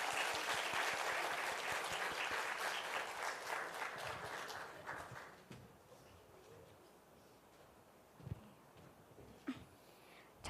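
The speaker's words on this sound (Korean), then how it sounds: "우리 박수로 한번 어린이를 축복해 주실까요?" Church congregation applauding to bless the children during a parents-and-children service, a full round of clapping that fades out after about five seconds, leaving a quiet room with a few faint knocks.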